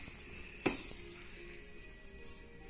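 Dosa batter in oil on a hot pan, a soft continuous sizzle close by with one brief sharp clack near the start.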